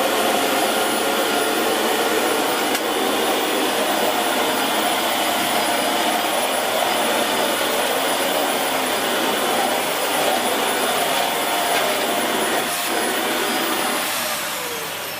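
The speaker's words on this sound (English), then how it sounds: "if I put it on the hard floor and turn it on, what happens is it just clamps itself straight to the floor and won't move." A Vax Mach Air Reach U90-MA-R upright bagless vacuum cleaner runs on a hard floor, giving a steady loud whooshing motor roar throughout, close by and without speech, easing slightly at the end.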